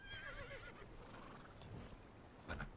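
A video game horse whinnies with a wavering, falling neigh at the start, followed by a soft clip-clop of hooves and a short snort near the end, moderately close and fairly quiet.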